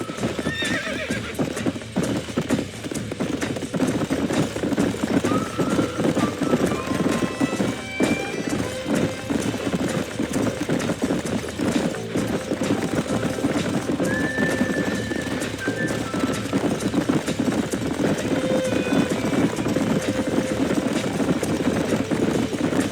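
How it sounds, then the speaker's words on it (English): Horses in the Red Dead Redemption video game, with steady hoof clip-clop throughout and several clear neighs and whinnies, loud and close over a continuous outdoor bed, with a brief voice early on. "These are fine horses"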